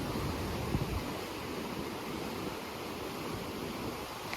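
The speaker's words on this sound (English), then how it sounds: "But this time, we got some waves." Ocean surf rolls steadily onto the rocky shore at Acadia National Park in Maine, a loud, continuous wash of breaking waves mixed with wind buffeting the microphone, with no voices.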